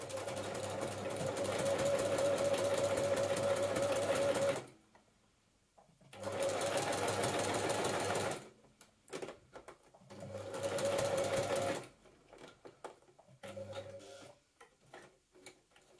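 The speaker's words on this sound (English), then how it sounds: "So I'm going to top stitch it just super close to the edge, just all along" A sewing machine top stitches close along the edge of a stretch fabric seam on a dragon cosplay dress, whirring close and steady in several bursts separated by short pauses and quiet handling.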